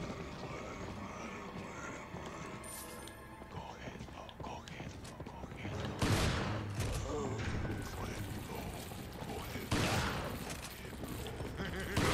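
Gunfire in the survival horror game Resident Evil 4, with sharp broadband shots bursting out at about six and ten seconds over a busy, continuous game soundscape, with voices in the background.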